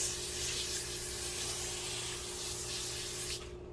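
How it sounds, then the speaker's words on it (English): A cooking spray hisses onto baking paper in one steady, close burst for a few seconds, then cuts off abruptly. "So we're gonna spray our paper."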